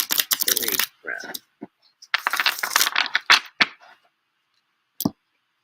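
A Raphaelite tarot deck being shuffled by hand: several quick, close bursts of riffling card noise separated by short pauses, ending with one sharp final snap.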